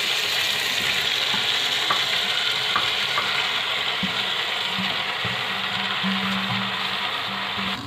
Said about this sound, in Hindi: देखिए हमारे आलू कितने अच्छे से भून गए